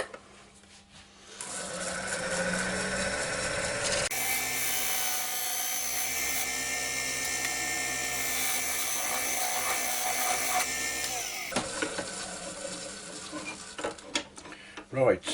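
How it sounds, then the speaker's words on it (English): A skew chisel cuts a shoulder into wood spinning on a lathe, giving a steady whirring, scraping hum that runs for several seconds between quieter lathe noise and a few knocks at the end. "I'm just going to put the shoulder in now with the skew chisel"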